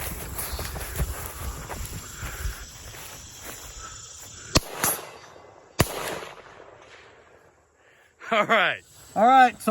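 An SKS rifle fires two sharp, loud cracks about a second apart while the shooter advances toward the 100 mark outdoors, over low background rumble; a voice-like chirping follows near the end.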